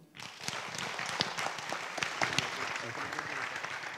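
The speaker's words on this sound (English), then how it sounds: "Once again, a round of applause for Joy Mboya" An audience applauds Joy Mboya at a creative-sector session, with steady clapping that holds for several seconds and sharp individual claps standing out from the crowd.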